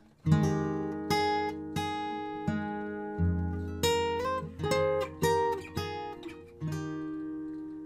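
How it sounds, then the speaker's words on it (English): Fingerstyle guitar playing a section of a piece, starting with open low strings, a flowing sequence of plucked notes and chords with hammer-ons, close and clear, no voices. "Now 28 sounds like this"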